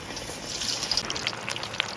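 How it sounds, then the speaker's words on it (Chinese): Meatballs for braised lion's head fry in hot oil in a wok, giving a soft, continuous sizzling hiss with light crackles close by. "我们把这个丸子下入锅里，我们千万不要动"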